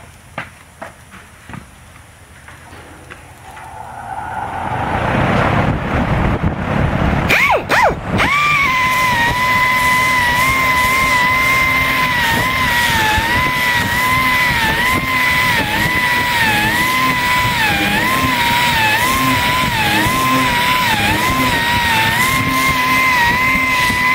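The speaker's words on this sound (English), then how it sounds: "This is the Baxter Harbor Freight geared sander with 40 grit on it" A Harbor Freight geared sander with 40 grit stripping body filler from a 1974 Charger deck lid runs with a loud, whining, grinding drone. It is near and continuous after a rising start, with a fan going alongside.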